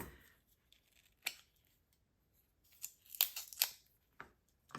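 A few crisp scissor snips on paper during card making, quiet and close, with short pauses between the cuts and no voices.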